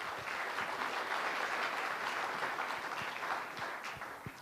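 Audience applause at an environmental candidates' debate in Sidney, BC, following a candidate's closing remarks: a dense, steady wash of many hands clapping, sustained throughout and tapering slightly at the end.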